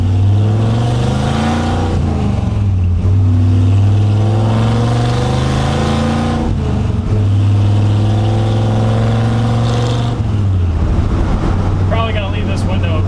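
A Ford F100 pickup with a Tremec five-speed manual drives along, engine revving up through each gear with clear drops at the shifts, loud and close inside the cab, with a brief voice near the end.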